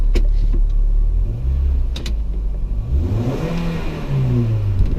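Car engine with a broken transmission revving up and down repeatedly, rising and falling whines from a nearby idling motor, fairly loud, with no talking over it.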